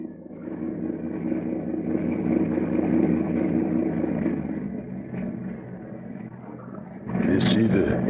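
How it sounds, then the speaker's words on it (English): A motorboat engine purrs low and steady near a pier at night, a continuous muffled rumble that swells slightly, ending with a louder burst of noise. "Suddenly, the thick silence is broken by the low purr of a motorboat engine."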